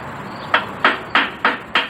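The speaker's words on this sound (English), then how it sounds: "First get it out of the vise, and then smack it out with the hammer" A hammer strikes metal on a makeshift anvil five times in an even rhythm, each blow a sharp close ringing clank.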